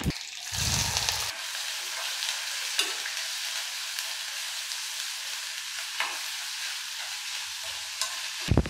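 Sliced onions hit hot oil already holding mustard seeds and dried red chilli, giving a brief loud clatter and then a steady, fairly close sizzle with occasional stirring scrapes, no talking.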